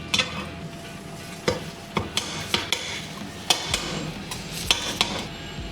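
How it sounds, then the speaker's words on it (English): Okonomiyaki batter frying on a hot oiled griddle in a Tokyo restaurant, steady soft sizzle broken by sharp metallic spatula clicks and taps against the griddle at irregular intervals. "They mix up the food, get it ready, put it on the hot griddle, and form it into a pancake"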